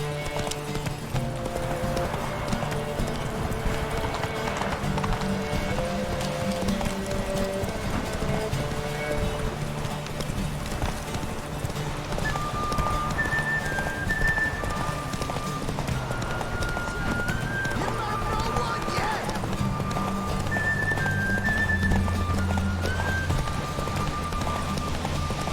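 Roach the horse galloping in The Witcher 3, steady rapid hoofbeats running continuously under game music and ambience, with a voice now and then.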